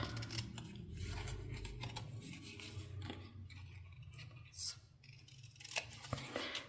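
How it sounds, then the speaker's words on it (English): Scissors snip along a score line on paper with quick, close clicks and cuts spread through the passage, over quiet room noise. "You're just going to want to make that cut right on the inside there of the score line, follow the score line up, cut it off"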